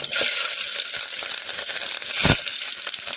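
Cumin seeds, fennel and garlic drop into hot oil in a pan, setting off a steady, close frying sizzle with a brief louder crackle near the end.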